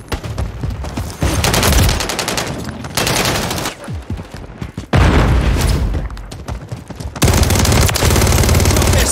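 Gunfire in the video game Call of Duty Modern Warfare 3: loud, close bursts of rapid automatic fire in several long volleys separated by brief pauses, with heavy booming impacts and no talking.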